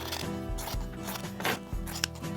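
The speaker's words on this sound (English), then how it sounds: "I'm going to just trim the edges" Scissors trim the edges and corners of sewn fabric, producing a series of close, crisp cutting snips in an irregular rhythm over a constant background hum.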